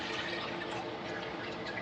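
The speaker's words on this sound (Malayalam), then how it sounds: "ഉരുക്കി അരിച്ചെടുത്തേക്കുക. അത് ഇതിലേക്ക് ഒഴിക്കാം." Melted, strained jaggery syrup pours steadily into a pot of kuzhakkatta payasam, a continuous liquid splash and trickle running close by for under two seconds.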